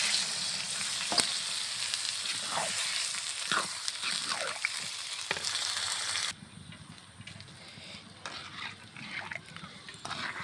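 A pointed gourd and potato curry sizzles and spits in a pan as it is sautéed dry, a continuous close crackle with occasional stirring scrapes, the hiss dropping noticeably quieter partway through.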